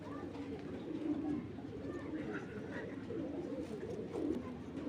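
A big blue-bar pair of silver-coloured pigeons at a loft, cooing in low, steady murmurs close by over a continuous background hum.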